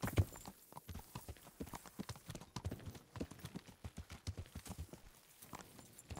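Horse hooves clip-clopping at a walking pace in Kingdom Come: Deliverance, a steady rhythm of moderately loud steps.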